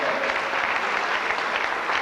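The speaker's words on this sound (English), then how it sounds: "Our Miss Ireland 1991, give her a big round of applause, Amanda Brown." A live audience applauds for Miss Ireland 1991, dense steady clapping from a large crowd filling the hall, loud and continuous throughout.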